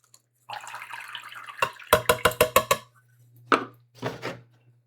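Water splashes and sloshes in a container being rinsed during Alocasia repotting, with a quick series of sharp splashes followed by a couple of softer pours, close and without talk.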